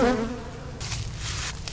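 A steady, close buzzing drone of many honey bees in a hive box, continuous and fairly loud with no talking.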